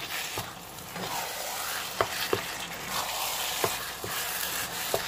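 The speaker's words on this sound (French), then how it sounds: "Ça fait 5 minutes que ça rissole" Ground meat for a meat sauce browns in a pan with a steady close sizzle, broken by a few brief scraping stirs of a utensil, with no voices.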